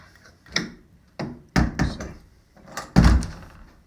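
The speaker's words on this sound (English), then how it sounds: "We'll close this door." A shed door swings shut onto a locking T-handle latch with a sequence of four or five solid wooden thunks and knocks, close and fairly loud, the last impact the heaviest.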